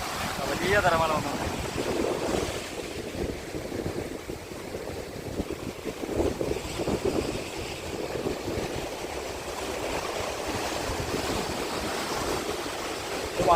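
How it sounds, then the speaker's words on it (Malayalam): Waves rolling and breaking on the sea shore at Valinokkam, a broad continuous wash of surf under gusty wind buffeting the microphone, with a brief voice near the start. "വലിയ തിരമാല വന്നു."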